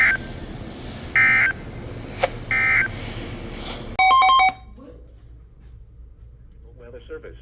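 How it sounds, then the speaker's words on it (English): National Weather Service Emergency Alert System weather radio signal: three short bursts of harsh data tones with brief gaps, then a loud, piercing alarm tone lasting about half a second, followed by near silence and faint background sounds. "the National Weather Service has just activated the public warning alarm tone"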